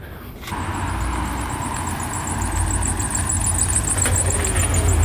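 A C5 Corvette V8 engine runs steadily nearby, a low rumbling idle that grows slightly louder and throatier toward the end.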